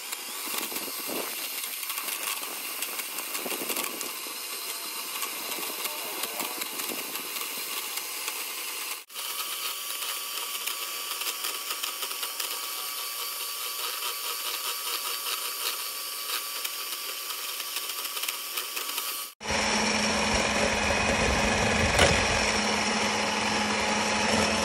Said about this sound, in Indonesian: Jadi menteganya ini di mixer ya.